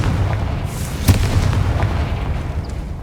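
A Confringo curse explodes in Hogwarts Legacy with a single sharp boom, followed by scattered smaller pops and rumbling over a steady low background.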